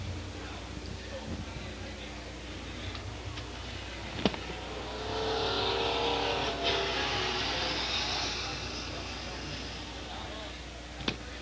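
Race cars at Sauble Speedway, a short oval track, with a steady engine roar that swells in the middle and a few sharp clanks, heard at a moderate distance beneath a public-address commentator's voice.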